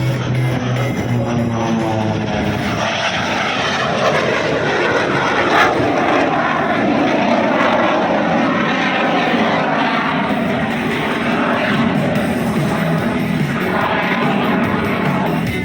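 Yak 110 aerobatic aircraft roaring at an airshow, its engine drone loud and continuous throughout, with the pitch shifting as it passes and manoeuvres overhead.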